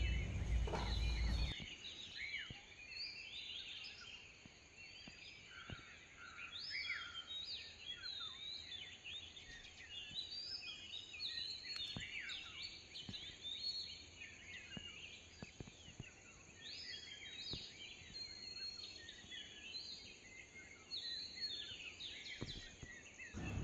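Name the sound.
sparrows chirping at dawn in a Konkan village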